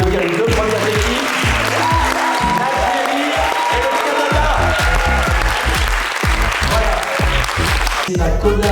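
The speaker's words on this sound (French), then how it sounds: "On va applaudir les deux premières équipes." An audience at a French-language medical conference game event applauds loudly and continuously, a dense wall of clapping while music plays along underneath.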